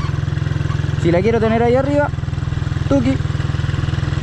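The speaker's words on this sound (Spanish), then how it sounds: "Dejo la moto acelerada un poquito, ven cómo se escucha" A motorcycle engine is held at slightly raised revs during a slow, balanced turn, making a steady low drone throughout while someone speaks over it in short bursts.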